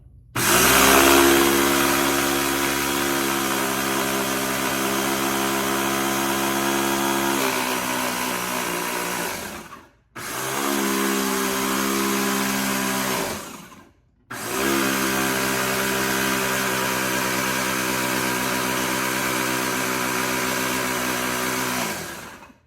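Electric grinder whirring through dehydrated green onions in three long bursts, a loud steady motor drone with brief silent gaps between runs, close up.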